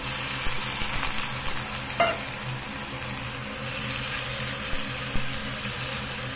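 Small fish and scallion frying in a pan with eggs, a steady close sizzle and crackle running throughout, with occasional faint stirring clinks.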